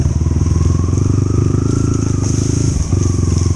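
A trail motorcycle pushes through thick brush, its engine thrumming loudly and steadily up close with rhythmic pulsing, while branches scrape and clatter against it.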